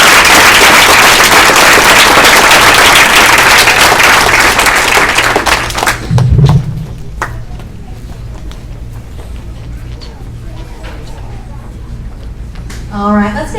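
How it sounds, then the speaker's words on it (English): Audience applause at a 5th grade celebration at an elementary school, a dense, loud burst of many hands clapping for about six seconds that then drops off to quieter background noise with scattered claps. "let's give one more round of applause"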